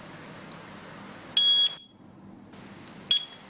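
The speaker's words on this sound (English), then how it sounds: "You will hear a beep sound when the pairing is successful." Pairing beeps from a Chuango WS 105+ mini strobe siren: a loud electronic tone lasting about a third of a second, then a brief silence, then a second short beep, heard close and alone.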